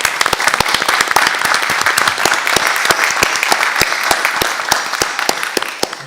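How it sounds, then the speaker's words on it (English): Applause from the audience at a school district board meeting: a room of people clapping steadily with distinct individual claps standing out, moderately loud and close, with no talk over it. "I think we should give Teresa another round of applause."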